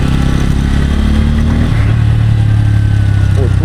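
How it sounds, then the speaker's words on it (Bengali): Motorcycle engines idle and rev loudly and close by in a crowded stadium parking area in Howrah, a constant engine drone with a low pitch shift partway through. "প্রচুর বাইক ভাই, প্রচুর বাইক,"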